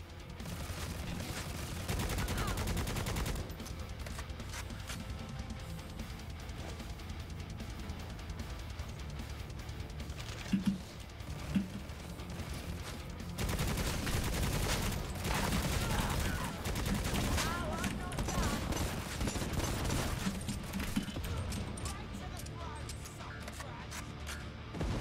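Rapid bursts of gunfire fill a fight in the video game Necromunda: Hired Gun, sustained and dense, with a few sharper impacts cutting through the clamor.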